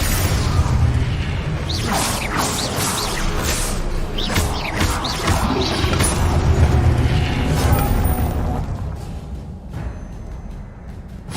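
Spell effects from Hogwarts Legacy gameplay crash and boom in quick succession, dense whooshes and blasts piling up loudly, then thinning toward the end.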